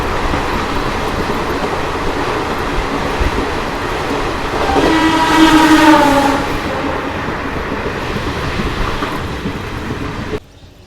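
The Garib Rath Express, running from Bandra to Delhi Sarai Rohilla, rumbles steadily along the rails while its horn blares once for a couple of seconds midway, heard from on board as constant loud noise.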